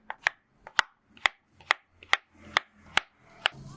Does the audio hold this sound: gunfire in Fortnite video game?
no